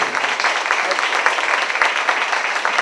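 Audience applause at a concert by a guitar duo, a steady dense wash of hand clapping filling the whole stretch at fairly loud level.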